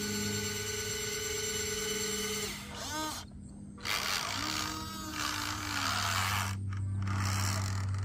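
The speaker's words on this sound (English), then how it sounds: "We got a loud gear noise going on, but they are working" The drive motor of a Huina 1583 RC truck whines with a loud grinding gear noise, rising and falling in pitch through several bursts with brief pauses between them.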